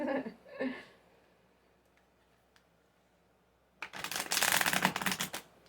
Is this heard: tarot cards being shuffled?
yes